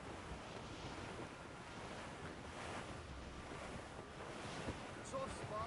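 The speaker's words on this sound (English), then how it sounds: "The sea between here and Anticosti is rough, Captain." Rough open sea in Assassin's Creed Rogue, with a steady wash of waves and wind rushing loud and close around a sailing ship. A few faint tonal game sounds creep in near the end.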